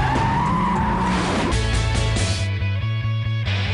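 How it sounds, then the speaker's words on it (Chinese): A NASA electric car whose four wheels each steer independently swings into a drift, tyres skidding and squealing loudly against the road. The whine shifts into a rhythmic, stuttering screech as the slide continues. "仔细看 NASA 这一辆电动车，四个轮子都能独立转向180度，可以瞬间甩尾"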